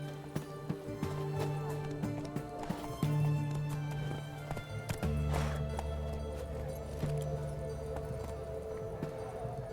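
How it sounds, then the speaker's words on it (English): Hooves of a horse galloping in The Witcher video game, a fast rhythmic clip-clop running steadily throughout, layered over low sustained game music tones. "Run, Roach"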